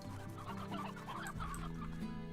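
Chickens in the video game Slime Rancher cluck repeatedly in a short, busy burst of fowl calls, close and moderately loud with no talk.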